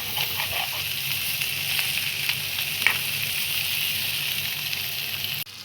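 Potato varuval fries in a pan with spiced masala, a steady close sizzle with occasional scraping stirs, ending with a brief clunk.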